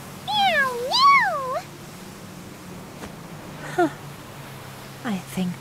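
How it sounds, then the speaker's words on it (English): A cat meows in Octopath Traveler II, giving a pair of high, rising-and-falling calls up close, then two shorter, softer mews later over a quiet game backdrop. "Meow, meow!"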